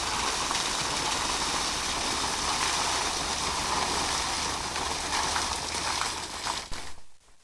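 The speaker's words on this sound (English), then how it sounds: "It's a waterfall." Heavy rainwater pours down like a waterfall at a Bon Echo campsite, a loud, steady, dense wash of water that continues unbroken before cutting off abruptly near the end.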